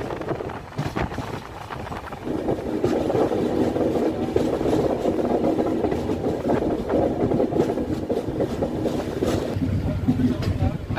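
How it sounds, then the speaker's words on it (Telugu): A passenger train on the Chennai–Vijayawada line runs steadily on its rails past New Guntur with another train alongside, giving a continuous rumbling roar with faint rhythmic clatter, close and loud throughout with no pauses. "అవతల సైడ్ ఏదో ట్రైన్ అయితే ఉంది."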